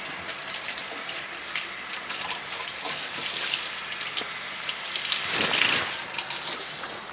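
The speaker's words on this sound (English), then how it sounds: "I'm gonna rinse off my knife." Loud, steady stream of tap water in a kitchen sink as a knife used for chopping garlic is rinsed, with brief splashing changes as the blade passes under the flow.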